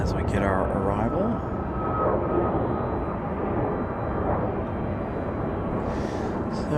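Airliner at Raleigh-Durham airport roars steadily in the distance, a continuous broad jet rumble that holds across the whole stretch while a person talks over it.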